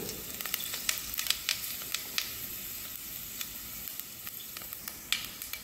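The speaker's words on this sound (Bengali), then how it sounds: "তেলটা গরম আসছে, তো উপর থেকে আমি কিছু ফেনাইল সিড, কিছু কিউমিন সিড এবং কিছু ফেনুগ্রিক সিড ঢেলে নেব" Fennel, cumin and fenugreek seeds crackle in hot oil, with a constant sizzle broken by frequent sharp pops and spits, close by and moderately loud.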